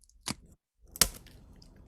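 Two crisp bites into matzah at a Zoom Passover seder, each a sharp close crunch followed by quieter chewing, with a short silence between them and no speech.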